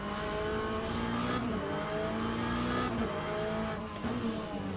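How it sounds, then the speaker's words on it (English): A BMW GT3 race car engine in Le Mans Ultimate, droning loudly and steadily at high revs with gear shifts and brief dips in pitch, constant and close throughout. "Next we drive the BMW"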